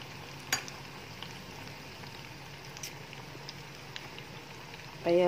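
Cauliflower frying in a pan gives off a soft, steady sizzle and crackle, with occasional small pops and a louder burst of sputtering at the very end.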